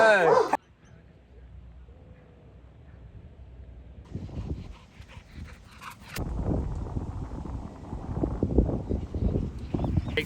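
Dogs at a lure-coursing day yipping, panting and whimpering close by, a busy stretch of excited noises that grows louder and denser toward the end.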